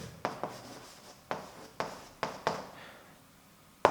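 A pen tapping and scratching on paper as the word abondance is handwritten, several short sharp strokes in an uneven rhythm, close and quiet.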